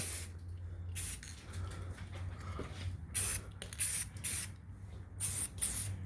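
Short bursts of aerosol spray paint hiss close up as red paint is applied to car brake calipers, several separate blasts of varying length with quiet pauses between them and no speech.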